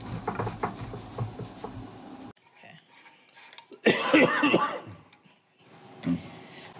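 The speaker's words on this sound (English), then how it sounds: "Your old man cough" A short, raspy adult cough close by in a workshop, with talking before it and quieter rustling afterward.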